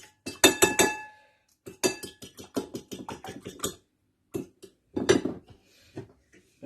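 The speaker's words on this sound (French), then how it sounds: "Je mélange les deux crèmes." Egg and cream being mixed in a bowl for a potato gratin sauce: rapid, close clinking of a utensil against glass in uneven bursts with short pauses between them, no voices.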